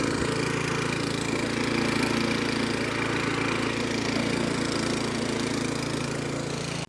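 A lawn verticutter fitted with a verticutting cartridge runs over a lawn, giving a loud, steady engine-like drone with a gritty raking texture throughout, unbroken until it cuts off at the very end.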